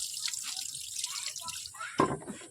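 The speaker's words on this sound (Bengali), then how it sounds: "এই যে চাল ধুচ্ছি ভাত বসাবো" Rice is washed in water, giving brief, faint sloshing and dripping splashes with a sharper splash near the end.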